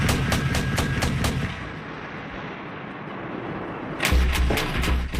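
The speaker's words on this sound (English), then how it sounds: "the Mark 110 is considered a lightweight weapon for a 150-ton ship" A Mark 110 naval gun mounted on a 150-ton ship fires a rapid burst of about six booming shots, pauses under a steady rumble, then fires a second quick burst, loud and close.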